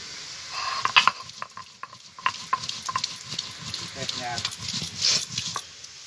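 Cumin seeds are ground into a paste with a rhythmic series of close, gritty scraping strokes. Someone speaks over the grinding throughout.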